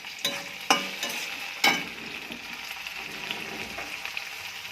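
Tomatoes frying in a pan with already-fried onions for an Indian curry give a steady close sizzle, with a few sharp stirring knocks early on and no talking.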